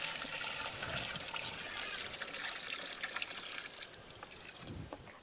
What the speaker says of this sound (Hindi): फिर कॉपर के साथ में मिक्स कर देंगे। इस टंकी में डाल दूंगी।